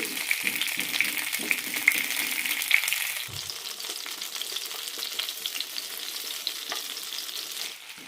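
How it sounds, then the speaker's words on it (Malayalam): Lemons fry in a pan for lemon pickle over medium-to-low flame, giving a steady close sizzle with occasional stirring and scraping clicks; the sizzle softens after a few seconds and stops near the end. "നാരങ്ങ വറുത്തെടുക്കാൻ ഏകദേശം അരമണിക്കൂറോളാകും ആകും മീഡിയം ടു ലോ ഫ്ലെയിം മാറി മാറി ഇട്ടിട്ട് വേണം വറുത്തെടുക്കാൻ"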